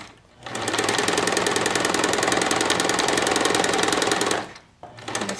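A sewing machine stitches a fabric face mask in one loud, close, rapid mechanical run of several seconds, then stops briefly before starting up again.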